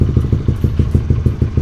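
A Honda CB150R motorcycle engine revs close up with an aftermarket exhaust, giving a loud, throbbing, rhythmic pulse with a clattering texture. No one speaks over it.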